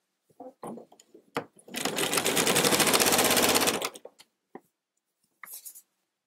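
A sewing machine stitches binding onto a quilt, running in one steady close buzzing burst of about two seconds, framed by brief taps and handling sounds.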